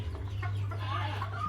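A Decaf Brown laying hen gives soft, low clucks close by over a steady low farm hum, with other faint bird calls in the background.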